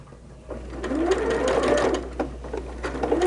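Sewing a quarter-inch seam with a guide foot, the machine runs in one short, close burst of rapid stitching that rises and holds steady, loud and clear with no voices.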